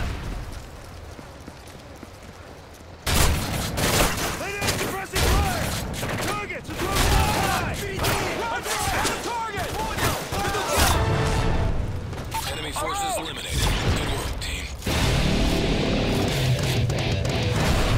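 Modern Warfare 3 survival-mode combat rattles with sustained automatic gunfire, crashes and mechanical clatter, loud and close, starting after a quieter opening, with shouted in-game voices mixed in.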